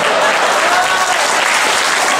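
Audience applause after a Malaysian politician's joking speech about a minister's brain, a dense, steady clapping that fills the room at full loudness from start to finish with no pauses.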